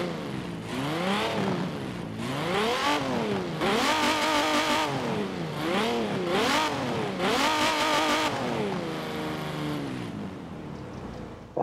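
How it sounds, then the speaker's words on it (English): The Hot Wheels Bone Shaker hot rod in the racing game Forza Horizon 4, revved while parked, loud, close engine climbing and falling in repeated rhythmic sweeps for several seconds, without talk. "let's just give it a bit of a rev up."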